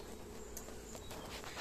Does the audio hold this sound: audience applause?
no